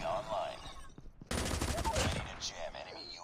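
Gunfire rattles in Call of Duty Mobile: brief shots, a short pause, then a dense sustained burst of automatic fire, close and loud, under faint speech.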